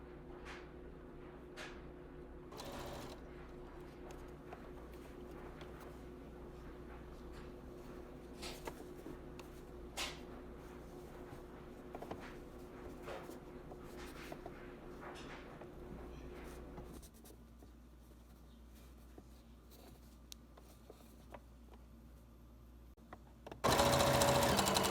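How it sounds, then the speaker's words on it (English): A sewing machine runs a long straight stitch along the seams of a long skirt, a quiet, steady mechanical whir that continues unbroken until a sudden loud burst at the very end. "I'm sewing with my one hand"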